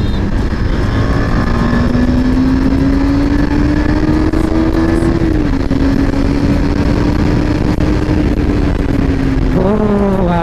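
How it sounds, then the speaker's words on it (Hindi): A TVS Apache 200 motorcycle with its stock exhaust runs loud and near, holding a steady droning engine note with slow rises and dips, then blips the throttle sharply at the very end. "इसका एग्जॉस्ट का जो स्टॉक एग्जॉस्ट है, इसका जो आवाज़ है ना वही बहुत किलर है"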